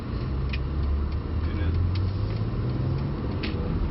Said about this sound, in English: now we're out driving around in the BMW Z4 M.